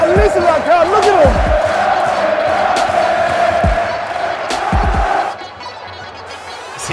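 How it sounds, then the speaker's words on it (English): A dense football crowd roars and chants at a tense 2-2 DFB-Pokal cup match in Germany, loud and sustained, with whistles and shouts on top and several low booming drum-like thuds, easing slightly near the end. "And listen to that crowd, look at them."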